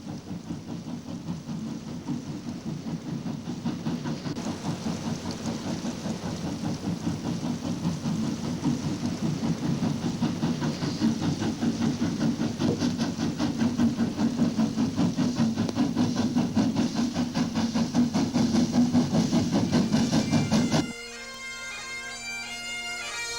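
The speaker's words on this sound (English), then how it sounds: "JA 1267 heads out the northbound express from the Whitestone city of Oamaru" New Zealand JA 1267 steam locomotive heading out a northbound express from Oamaru, a steady loud chuffing exhaust with hiss and rumbling running gear throughout, ending in a brief high whistle-like tone.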